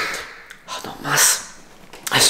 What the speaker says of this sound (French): Je commence à éternuer là